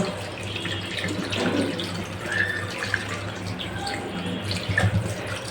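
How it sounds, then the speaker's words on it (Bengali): Water pours into a pot of spiced beef curry to make the gravy, a steady close splashing and trickling stream with a few louder gurgles near the end. "এবারে পানি দিয়ে দেব ঝোলের জন্য"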